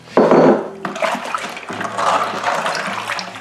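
Three pounds of granulated sugar poured into blackcurrant wine must, a rushing, hissing gush that starts loud, then continues in uneven grainy waves of pouring and settling, close and without speech.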